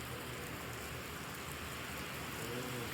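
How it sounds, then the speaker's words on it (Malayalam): Heavy rain pours down steadily in Dubai, a dense continuous hiss of drops hitting surfaces that stays even and close throughout, with no voices. "बहुत अच्छा बारिश है"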